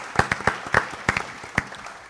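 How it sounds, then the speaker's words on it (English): A few scattered claps from a small audience at a community resiliency summit, about eight distinct sharp hand claps spread unevenly over two seconds, fairly close with no talking. "let's give him a round of applause"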